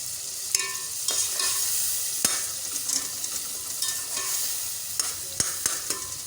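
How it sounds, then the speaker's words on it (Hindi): Masala for urad (mash) daal sizzles steadily in a hot pan while a spoon stirs and scrapes through it, giving repeated clinks over the constant close frying crackle. "5-10 मिनट हम भूनेंगे इसे।"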